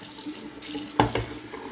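A shaving lathering bowl and brush rinsed under a running tap, giving continuous splashing water with two louder splashing bursts in the second half, and no talking.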